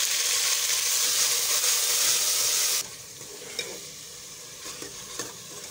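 Tomatoes hitting a pan of browned onion and garlic, a loud steady sizzle that drops suddenly partway through to a quieter fry with faint stirring scrapes, no talk.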